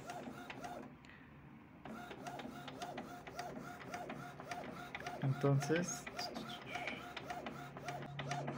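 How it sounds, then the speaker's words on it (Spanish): An Epson Wi-Fi printer prints a page with rhythmic mechanical whirring and clicking pulses at close range, repeating steadily while a person says a word briefly. "Ahí escucharon eso, es que significa que está imprimiendo."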